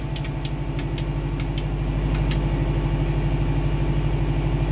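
A 2020 Kubota M4062 tractor engine running with its RPM being adjusted, a steady loud low throb with a fast even pulse, plus several short sharp ticks early on, no speech.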